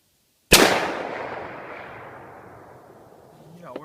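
A Savage 10P .308 rifle fires a single loud, sharp shot at a rock outdoors. The crack is followed by a long rolling echo that slowly fades.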